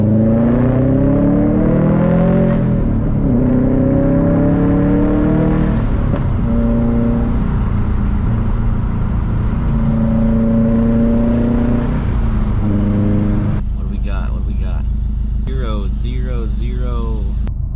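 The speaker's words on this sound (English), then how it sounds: "this motor feels so smooth up top on the RPMs" A Subaru STI engine running with more boost drones loudly from inside the car, its pitch rising and falling with revs, and a voice talks near the end.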